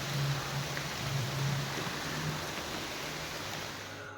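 Heavy rain pours near a hidden forest waterfall near Sirsi–Siddapur in Karnataka, a dense, even roar that fills the whole stretch, with a faint low hum drifting underneath.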